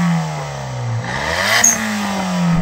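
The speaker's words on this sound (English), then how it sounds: "So let's rev up these little engines," Several kei cars with three-cylinder turbo engines, among them a Daihatsu Copen, Suzuki Cappuccino, Mazda Autozam AZ-1, Suzuki Alto Works and Mitsubishi Minica, rev loudly and close by, pitch rising and falling with overlapping engine notes and a brief turbo whoosh.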